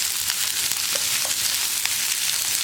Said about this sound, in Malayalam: ഇതെല്ലാം ചേർത്തൊന്ന് വഴറ്റിയെടുക്കണം.